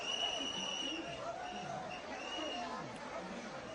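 Faint crowd chatter at the scene of a deadly stampede in Delhi, an indistinct babble of many distant voices with no words standing out, steady and low throughout.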